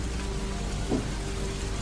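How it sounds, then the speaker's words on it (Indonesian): Steady rain beats against window glass, a dense, even hiss of drops with no letup, heavy and continuous throughout. "Marlep mendengar suara hujan menerpa kaca."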